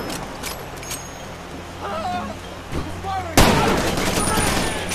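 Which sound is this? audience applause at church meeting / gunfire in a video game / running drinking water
gunfire in a video game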